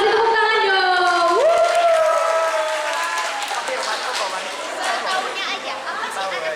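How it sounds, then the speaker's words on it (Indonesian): A children's audience at a National Children's Day rights awareness event breaks into applause and chatter, with a voice rising at the start, then a steady, close crowd wash of clapping and murmuring. "Kasih tepuk tangan dong."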